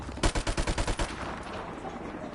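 A rapid burst of about a dozen evenly spaced gunshots from a friendly helicopter in Call of Duty: Modern Warfare Remastered rings out loud and close, then trails off into a fading rumble.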